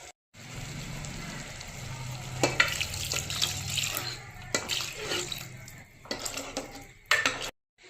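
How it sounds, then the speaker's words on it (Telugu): Tamarind extract poured into a cooking pot, a steady liquid splash and bubbling with a few metallic clinks of utensils against the pot, close by. "పండు పులుసు పోసేసుకుందాం"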